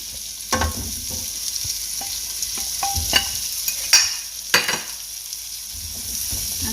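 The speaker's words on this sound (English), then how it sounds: "Now I'm going to add 2 large zucchini that I cut up into long strips. Add that to the pan." Long strips of two large zucchini sizzle in a pan over medium heat, a steady frying hiss broken by scattered scrapes and clanks as they are stirred, close and fairly loud with no talking.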